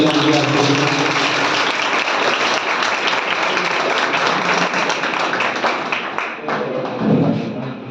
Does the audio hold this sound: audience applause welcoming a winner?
yes